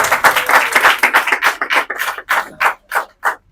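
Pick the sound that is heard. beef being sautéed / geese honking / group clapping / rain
group clapping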